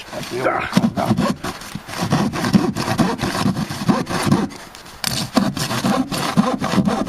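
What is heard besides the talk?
hand sawing wood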